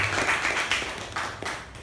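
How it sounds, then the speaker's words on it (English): Audience at a speaking club meeting giving a round of applause to the speaker and evaluator, a short burst of clapping from a modest group that fades in under two seconds. "A huge round of applause to the speaker and the"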